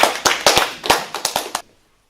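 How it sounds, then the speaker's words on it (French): Audience at a public-speaking workshop for apprentices clapping briefly, about ten sharp, close hand claps in an uneven burst that stops abruptly and leaves silence. "On peut l'applaudir encore une fois."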